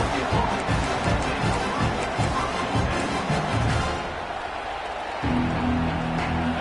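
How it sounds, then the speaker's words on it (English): Stadium crowd in a college football video game, a broad continuous roar of fans that dips briefly before swelling again, with no talk over it. "This crowd ready to make its presence known."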